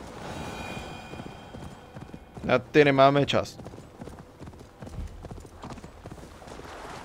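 Hooves clip-clop steadily as a horse gallops across open countryside in Assassin's Creed Valhalla, running throughout beneath a brief burst of speech in the middle.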